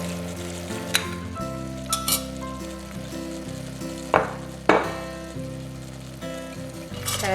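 Mixed vegetables, among them cauliflower, beans, carrot and peas, sautéing in a pan, a constant sizzle punctuated by several loud scraping stirs and clinks of a spoon against the metal.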